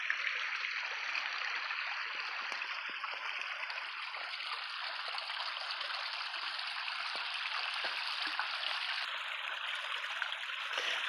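Water of a rock-bottomed farm stream runs steadily over stones, a continuous close rushing and trickling wash with no voices.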